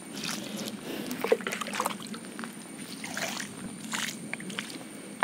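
Water is poured at the base of a bitter gourd plant to soak the garden soil, making soft splashing and trickling bursts that rise and fall, close and fairly quiet.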